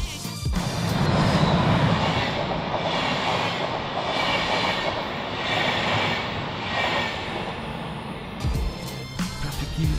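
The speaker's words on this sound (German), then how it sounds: "das war tatsächlich wirklich gerade mein Zug" A train rumbles past loudly and close for most of the ten seconds, a sustained roar of wheels and carriages that eases toward the end, followed by a few clanks and rattles.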